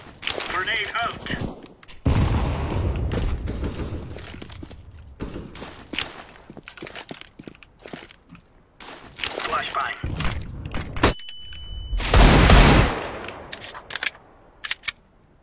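Grenade blast and rapid gunfire in a first-person shooter video game, with loud bursts of shots and a big booming explosion amid player chatter over voice comms.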